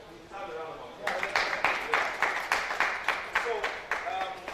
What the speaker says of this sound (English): I think we have a round of applause.